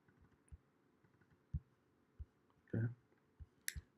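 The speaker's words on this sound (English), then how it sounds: "You can load these scenes by double-clicking on them." Several quiet, sharp computer mouse clicks spaced through a near-silent room, including a quick double-click, heard while loading scenes in a software editor for an AR/VR course.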